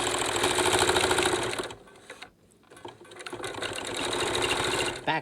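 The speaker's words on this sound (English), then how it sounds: "Then we are going to go to our sewing machine and do a top stitch 1/4 inch right there." A sewing machine top stitches a cloth face mask with a steady, fast mechanical whir, pauses briefly for about a second, then resumes its rapid, close stitching.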